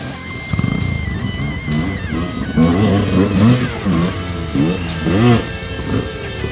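A GasGas motorcycle on a forest trail revs in repeated rising bursts as it passes nearby, loud and uneven, with people talking over the engine.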